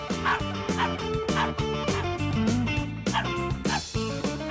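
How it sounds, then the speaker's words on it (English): A dog barks and yips repeatedly at close range in quick, uneven bursts. "That's enough with the barking."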